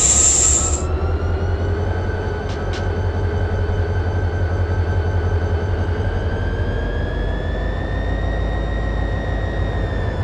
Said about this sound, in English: Climb back on that locomotive and back we go.